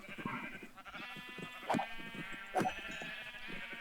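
Two distinct sheep bleats from a video game, spaced about a second apart, over a steady background of soft game music and ambient tones.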